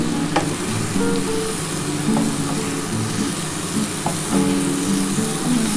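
Tomato fried with tender cabbage and potatoes in a pan, a steady close sizzle with intermittent scraping and stirring of a spatula against the pan.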